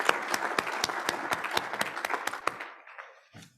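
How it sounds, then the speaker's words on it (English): An audience at a hybrid meeting claps in a dense burst of applause for about two and a half seconds, then the clapping thins out and fades to silence. "So please give all of those folks also a round of applause"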